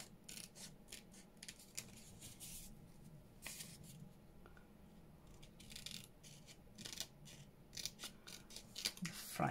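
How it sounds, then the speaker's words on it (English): Scissors cutting paper while making botanical-themed ephemera, with soft snips and rustling that come in irregular bursts. The sounds are faint, close-up and quiet overall, with no talk. "I'm just going to cut this down."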